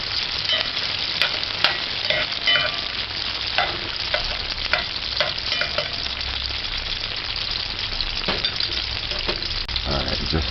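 Mixed vegetables and onions sauté for saltfish in a pan, a loud, continuous frying hiss with rapid crackles and the occasional clatter of a stirring utensil, and no talking.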